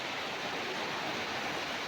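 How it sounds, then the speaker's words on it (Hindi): Heavy rain pours down in a dense, even roar of close broadband hiss, constant and unbroken throughout, with no voices. "दिख रहा है कितनी तेज़ पानी हो रहा है"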